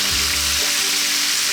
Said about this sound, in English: Let's just fry this around for about another 4 minutes or so.